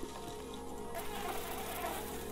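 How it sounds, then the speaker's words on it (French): A bee buzzes in the Botanicula point-and-click game, a steady insect drone holding through the whole short moment with no voices over it. "Petite abeille."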